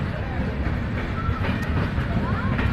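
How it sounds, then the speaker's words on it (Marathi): A passenger train pulling into a crowded station, a dense continuous low rumble of wheels and carriages close by, steady throughout with faint crowd noise mixed in. "फिरोजपूर शिवानी बठिंडा तिकडनं आलेली ट्रेन आहे बघा ही"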